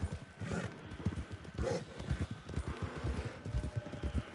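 A Norfolk Roadster horse in Red Dead Online trots with steady, close clip-clop hoofbeats in an even rhythm, moderately quiet, with no talk over them.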